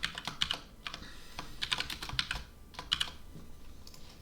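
Fast typing on a computer keyboard, clusters of crisp clicking keystrokes broken by short pauses, close and clear with no voices.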